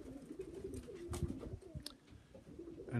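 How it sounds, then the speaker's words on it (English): Pigeons in a kit of eleven coo softly and repeatedly before release, low murmuring calls with a few flutters and knocks, close by and without speech. "I'm about to drop this kit of 11 little birdies"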